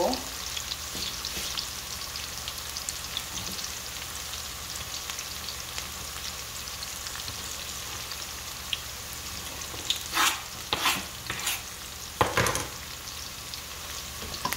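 Onion and scallion sizzle in hot oil, a steady crackling hiss throughout with a few louder spits and stirring knocks near the end, and no talk.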